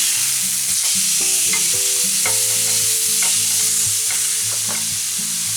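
A steak fries in a pan at home, a loud steady sizzle filling the background with irregular clinks and tonal scraping on top, close and continuous with no talking.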